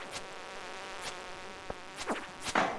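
Buzzing fly enemy in the farming game Stardew Valley, a thin insect drone humming steadily underneath with a few brief louder flutters near the end.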